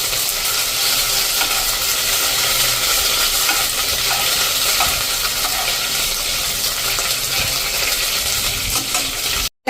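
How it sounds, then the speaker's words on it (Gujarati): Ginger-chili paste fries in oil in a pan, making a continuous close sizzle with bubbling and light stirring scrapes. It holds steady for several seconds, then cuts off suddenly, with no talking. "એ પહેલાં આપણે જે આદુ મરચાંની પેસ્ટ નાખી છે ને એને કૂક કરી લઈશું"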